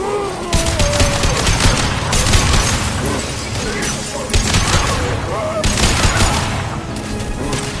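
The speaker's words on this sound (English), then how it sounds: "Firing a high-impact shot." Heavy gunfire in a PlayStation 4 game, loud continuous bursts of shots and booms with rolling rhythm, accompanied by game music and effects throughout.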